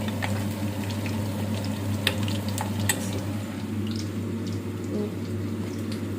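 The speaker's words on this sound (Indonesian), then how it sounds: "Goreng bakwannya," Corn fritters fry in hot oil, a steady dense sizzle and bubbling that holds evenly throughout, close and continuous with a few small pops and no talking.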